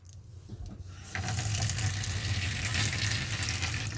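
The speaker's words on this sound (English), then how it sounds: "I'm turning on the water in the kitchen and the bathroom" Water gushes steadily from RV kitchen and bathroom taps with the water pump switched off, a close, loud hissing rush that swells after a quieter start.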